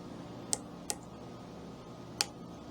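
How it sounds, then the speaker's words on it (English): Three sharp, faint clicks, irregularly spaced, over a quiet background hiss; a small metallic ticking of thread nicking a fly-tying hook point while tying a Clouser Minnow, with no speech. "You hear that clicking? That's me nicking the tip of the hook"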